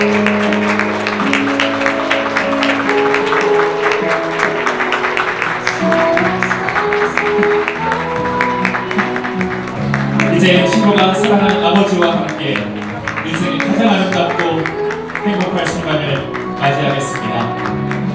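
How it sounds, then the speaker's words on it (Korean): Wedding guests clap steadily as the bride makes her entrance in a wedding hall, a dense, continuous wash of applause running the whole way under loud music and a voice. "다시 한번 큰 박수 부탁드리겠습니다"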